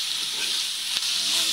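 Bitter gourd (ampalaya) sautéing in a pan gives off a steady, bright sizzle and hiss of frying, close and continuous, with one brief sharp crackle near the end.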